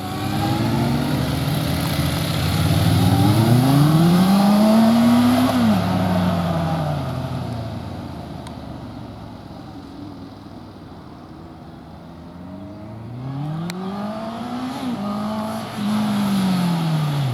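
A car on a driving lesson accelerates hard through corners, with the engine note rising and falling in sweeping pitch arcs across two loud pulls and a quieter lull between them, without any talk.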